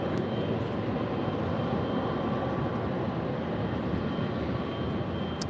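A Boeing 777-300ER airliner taking off from runway 24 left at LAX, a steady, moderately loud engine rumble heard continuously from a distance.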